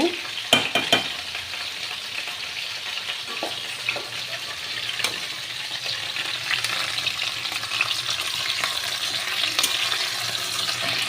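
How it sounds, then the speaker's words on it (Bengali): Malabar spinach greens are stirred in a pan with a utensil, irregular scraping clicks over a steady sizzle of frying. "এদিকে একটু ফুলমিচুরিটা নাড়া দিয়ে দিই"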